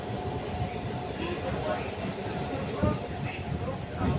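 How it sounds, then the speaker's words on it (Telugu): A MEMU passenger train pulls into platform 2 at a station, heard from on board as a steady rumbling roar with occasional wheel knocks, and a voice talks over it. "ప్లాట్ఫామ్ 2కి అయితే వచ్చేసినాం మనం."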